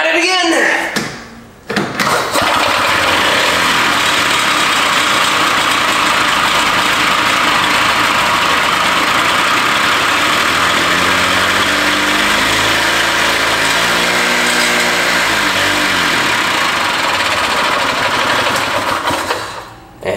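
A barn-find Harley Davidson golf cart engine running on ether revs and idles loudly and steadily for a long stretch, then sputters out at the end.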